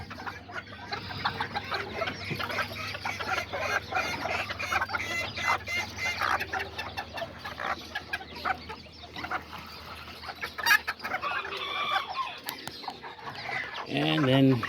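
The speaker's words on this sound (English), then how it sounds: "let's show you all the chickens right here with the little chicks" Azteca chickens, roosters and hens with small chicks in a farmyard, clucking steadily close by amid shuffling and a low hum, with a brief louder call near the end.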